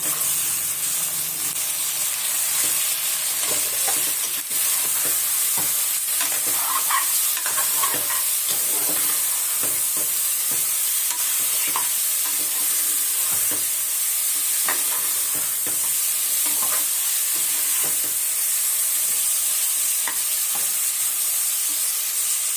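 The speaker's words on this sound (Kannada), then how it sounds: "ಮಟನ್ ಸೇರಿಸ್ತಾ ಇದ್ದೀನಿ" Mutton with tomato for a mutton curry fries in a pan with a continuous hissing sizzle, broken by frequent scrapes and clinks of stirring.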